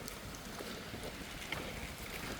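Gusty wind buffeting a microphone outdoors at a Butlin's Skegness seaside resort, a low rumbling roar that rises and falls, faint and continuous.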